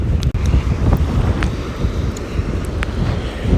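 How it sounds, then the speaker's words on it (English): Strong wind on a beach buffets the microphone in a constant rumbling roar, with faint surf in the background and no voices. "Ooh, it's windy, windy, windy"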